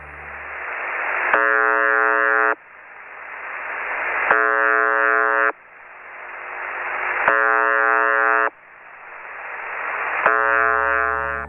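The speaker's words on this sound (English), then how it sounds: "a shortwave radio station that broadcasts a short, monotonous buzz tone" A harsh, monotonous buzz tone from a shortwave radio station over radio static, repeating in evenly spaced bursts about every three seconds, each lasting about a second.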